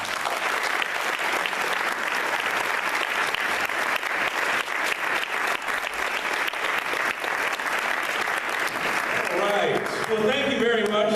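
An audience claps to welcome a speaker at a lecture, a sustained dense round of applause lasting the whole stretch, with a voice coming in near the end.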